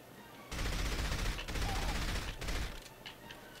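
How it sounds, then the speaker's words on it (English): Shotgun fire in the video game From Russia with Love comes as a dense burst of loud, close blasts lasting about two seconds, then dies away into quieter game sounds. "Whoa, dude. Shotgun, dude."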